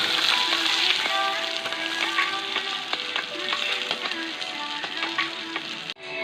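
Rui fish pieces frying in oil in a village kitchen, as they are turned: a loud, continuous close-up sizzle broken by sharp spatula scrapes and clicks, over faint steady tones in the background.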